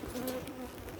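A honeybee buzzing close by at an open beehive, landing near a mobile phone; a brief, fairly loud droning hum over soft outdoor background, with no talking.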